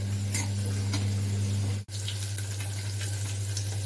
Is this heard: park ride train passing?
no